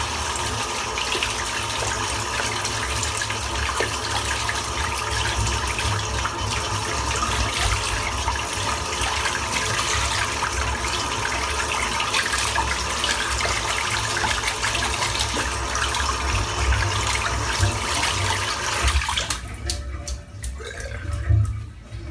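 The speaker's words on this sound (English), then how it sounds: "Rinse out the brush, which is caked full of lather." Running tap water pours steadily and loudly for about twenty seconds while a lather-caked shaving brush is rinsed out beneath it, then the flow stops abruptly, leaving a few faint drips and handling noises.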